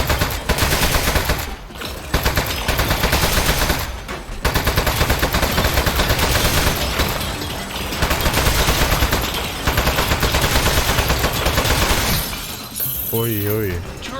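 A turret in the video game Aperture Desk Job fires sustained, loud rattling bursts with brief gaps, mixed with shattering and breaking noises, while a voice talks over it.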